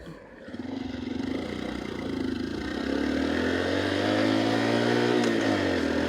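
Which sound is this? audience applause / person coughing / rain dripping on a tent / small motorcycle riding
small motorcycle riding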